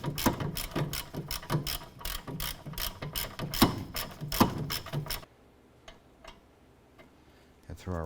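A ratchet wrench tightens a rear caliper bracket bolt on a 2008-2012 Honda Accord: about five seconds of rapid, crisp clicking up close, then near silence with a few faint ticks.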